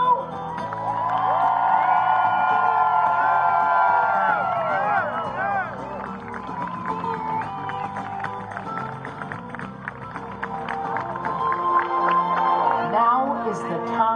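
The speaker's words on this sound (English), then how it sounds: "let's return the favor now with a big cheer" A large outdoor crowd cheers, whoops and claps for the walk crew at the Susan G. Komen 3-Day 60-mile walk closing ceremony in San Diego, a sustained roar of mixed voices with a livelier surge at the start.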